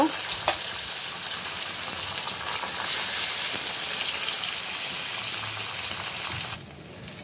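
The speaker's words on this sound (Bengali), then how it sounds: "মাছগুলো ভেজে নিছি, একটু লাল লাল হয়েছে" Fish frying in a pan until reddish-brown, a dense, continuous close sizzle and hiss of hot oil that holds steady for several seconds before dropping off abruptly near the end.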